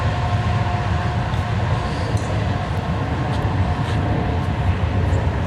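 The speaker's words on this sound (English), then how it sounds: "We got a train coming by right here on the golf course." A train rolls past near a golf course, a steady, loud, broadband rumble and rush with faint metallic squeals, continuous throughout with no talking.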